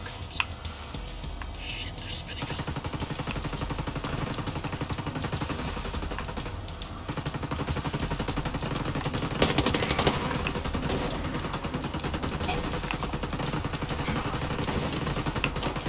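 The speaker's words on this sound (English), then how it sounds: "Where's these gunshots coming from?" Sustained gunfire in Ghost Recon Breakpoint during a snowy mission, dense overlapping shots and bursts running continuously through the scene, loud and busy with a brief lull near the start.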